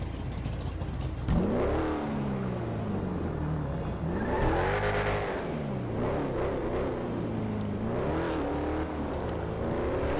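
Car engine in the GTA V video game revving and accelerating through rising and falling gear sweeps, loud and steady over about ten seconds with no talk.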